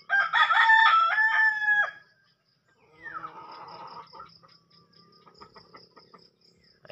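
A rooster crows loudly nearby, followed by softer clucking and scattered bird calls over faint outdoor insect hum.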